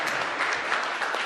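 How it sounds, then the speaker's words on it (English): Audience applause at a press event with the Ontario premier, a steady dense clapping of many hands that fills the whole moment without a break. "Another round of applause for Preston"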